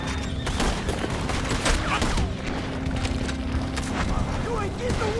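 Dense gunfire in Red Dead Redemption 2, with rapid overlapping shots and bursts over a constant roar of action, mixed with shouting voices from the game.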